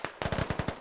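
A rapid burst of roughly seven shots from the video game Squad, evenly spaced and punchy, heard at a moderate distance and fairly faint in under a second.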